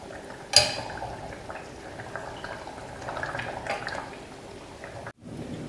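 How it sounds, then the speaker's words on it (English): Tamarind fish curry, Nyonya asam style, simmers in a covered pot with soft bubbling and faint drips. A sharp clatter comes near the start, a brief cut near the end, and no voices are heard. "So the fish has been gently simmering for an extra 2 minutes."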